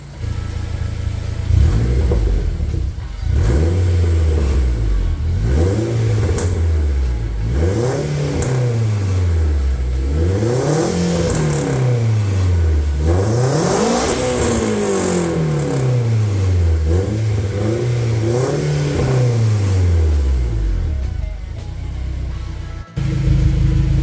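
A turbocharged Honda K24 engine swapped into a Toyota Camry, revved repeatedly from close by, rising and falling in a steady series of about a dozen loud sweeps, with a rough, burbling exhaust leak.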